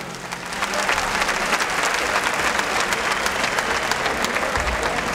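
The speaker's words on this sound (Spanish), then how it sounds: "Un aplauso, por favor." Concert audience at a live Cuban music homage breaks into sustained, dense applause, rising quickly and holding steady as a full crowd claps throughout.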